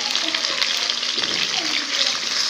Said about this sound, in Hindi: चिकन को अब हम अच्छे से फ्राई करेंगे इसका कलर चेंज होने तक